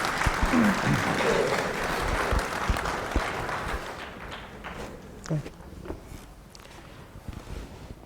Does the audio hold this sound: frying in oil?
no